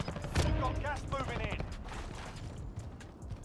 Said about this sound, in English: Now I start getting shot in the back